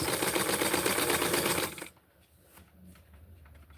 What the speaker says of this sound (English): So I'm going to be sewing it precisely like this.